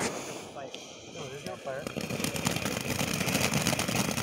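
New Year fireworks finale, with dense crackling and popping that builds from the middle onward over a background of voices.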